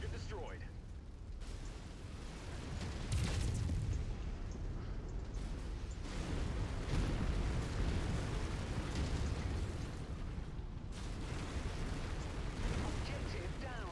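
Video-game explosions tear through fuel silos and warehouses as a run of heavy booms and rumbling blasts, loud and continuous, with a voice talking over them.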